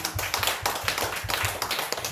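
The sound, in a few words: church congregation clapping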